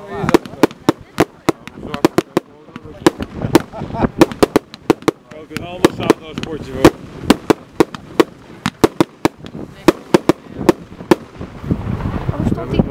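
Zena Mayhem Cakebox firework cake firing a rapid, uneven barrage of sharp cracking shots across the whole stretch, with people chatting in the background between the bursts.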